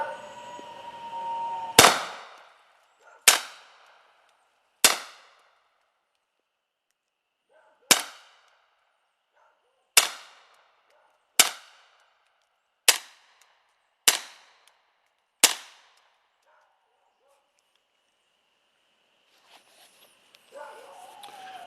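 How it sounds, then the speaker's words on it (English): A Hi Point pistol firing handloaded rounds with Remington primers: nine sharp, loud reports spaced a second or more apart, each trailing a short ring, with a faint shuffle at the end. "So all of those rounds fired, that was with the Remington primers."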